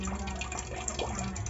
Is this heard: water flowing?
yes